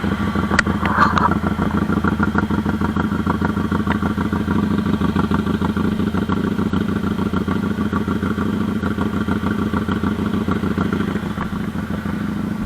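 A Royal Enfield Interceptor motorcycle engine runs at a steady, loud, close idle with an even thumping pulse. A few faint clicks can be heard over it, and no one speaks.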